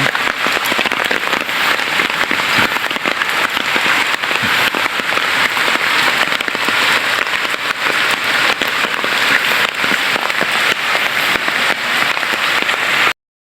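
Loud, relentless downpour drumming hard on a surface, a dense crackling roar that continues without pause throughout.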